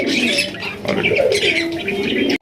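Pigeons at a pigeon sale in Bangladesh, a few soft close coos and warbling calls with light chirps, a short busy burst of bird sound.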